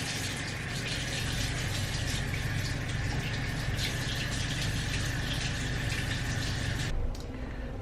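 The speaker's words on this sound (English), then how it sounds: "Okay, I'm gonna just wash my hands." A tap runs steadily while hands are washed, a dense, close hiss of flowing water that continues unbroken for several seconds before cutting off near the end.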